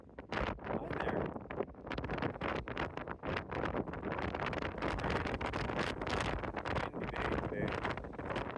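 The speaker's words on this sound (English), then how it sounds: "Windy day today." Wind buffets the microphone at a dry lake, a continuous roaring rush with gusty surges and no speech heard.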